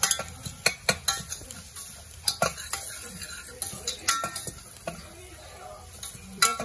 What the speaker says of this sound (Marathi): छान परतून घ्यायला